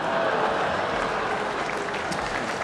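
A comedy show audience applauds in a thick, continuous wash of clapping that holds steady throughout, loud and close, then cuts off abruptly at the very end.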